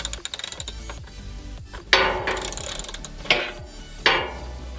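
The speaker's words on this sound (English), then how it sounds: "you're going to take your 8mm socket and go ahead and remove all of the bolts" An 8mm socket ratchet removes bolts on a 2017-or-newer Ford Super Duty Power Stroke diesel during a fuel filter change, with quick runs of close, crisp ratchet clicks broken by a few louder clunks.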